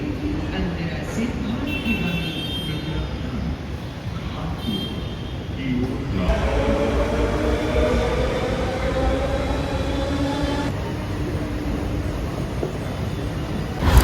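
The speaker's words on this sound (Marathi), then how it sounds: "घाटकोपरवरून ठाण्यासाठी ट्रेन पकडली आहे टू फायनल डेस्टिनेशन." A Mumbai suburban local train between Ghatkopar and Thane rumbles steadily from inside the carriage, a loud continuous rolling roar with rising tonal whine and wheel clatter, while people talk in the background.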